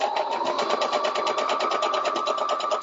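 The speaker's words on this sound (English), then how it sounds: "I'm going to put it into the machine, put the foot down, and I'm going to go ahead and stitch right across my first snowflake." Sewing machine running a continuous straight stitch across a fabric snowflake for a banner, steady rapid mechanical whir with an even pulsing rhythm, close and loud, no voices.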